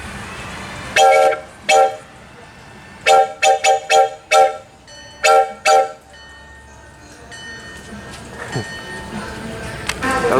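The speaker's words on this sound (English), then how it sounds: "And here's this nifty old steam whistle." Old steam whistle at the National Museum of Transportation blowing a series of loud, short harmonic toots, some spaced, some in quick bursts, over steady outdoor rumble and hiss.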